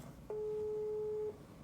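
A single steady electronic telephone ring tone sounds for about a second, clear and moderately loud over faint background hiss.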